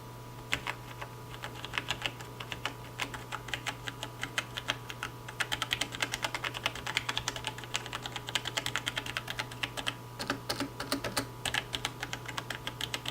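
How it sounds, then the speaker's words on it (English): Rapid, steady typing on a Logitech G Pro TKL mechanical keyboard, close up, with bursts of clacky keystrokes over a low constant hum and no voices. "This is what it sounds like when you're typing on it."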